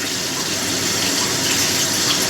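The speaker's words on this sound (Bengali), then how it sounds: "আর অল্প জল দিয়ে দিলাম।" Water poured into freshly ground mustard paste with green chilies, a steady close pouring and splashing that fills the whole moment.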